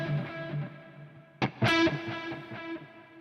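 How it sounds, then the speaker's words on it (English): A sustained, harmonically rich tone runs through the Ableton Live reverb, broken by a sharp hit, then hangs on in a thick, dirty decay that trails off slowly. "What's really good about that Ableton Reverb is it's got the decay on it is really, really dirty."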